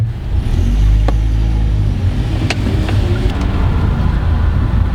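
A manual-transmission car pulls away in gear, its engine giving a loud, steady low rumble from inside the cabin with a few faint clicks, no talk.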